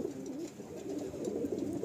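Soft, steady cooing of red-headed pigeons rolls on throughout, a low murmuring warble from several birds close by, with no voices.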